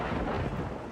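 Distant thunder from a storm over a lake rolls as a broad, continuous low rumble with wind and rain hiss, brief and fairly even in level.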